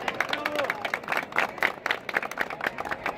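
A crowd at a bullfighting plaza in Huari, Ancash, Peru applauds with scattered, uneven clapping and a murmur of voices, moderately loud and continuous throughout.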